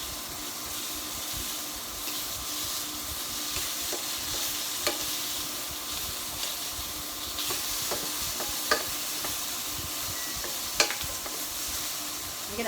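Tomatoes sizzle steadily as they roast in a pan for a roasted tomato panzanella, a constant close hiss of frying with scattered small pops and crackles throughout, no talking.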